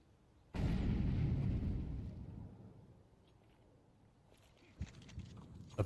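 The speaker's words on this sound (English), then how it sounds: "That nade is brilliant onto Rainwaker" A grenade detonates in a Counter-Strike match during a competitive esports broadcast, a sudden loud boom that rolls off over a couple of seconds, followed by faint sporadic pops and footsteps.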